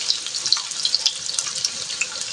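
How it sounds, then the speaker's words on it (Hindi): Potatoes sizzling in a pan of oil, a steady, close crackling hiss with dense small pops throughout, no voices. "3 से 4 मिनट इसको फ्राई करूँगी मैं।"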